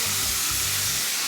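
Jerk chicken hisses on a barbecue grill as it goes down, a steady close broadband sizzle running the whole moment with a low rumble beneath and no voices.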